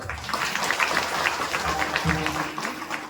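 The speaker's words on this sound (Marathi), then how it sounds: "त्याला टाळी वाजवून." Audience members at a kirtan in Haibatpur, Udgir clap in a steady rhythm beneath a voice, likely singing or speaking, the claps moderately loud and blended into the room sound.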